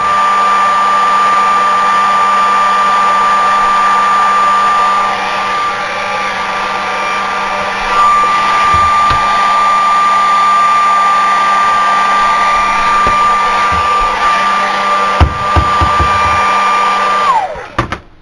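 A hair dryer blows steadily on a piece being rusted, a loud continuous whooshing drone that holds for most of the stretch, then cuts off with a couple of clicks near the end.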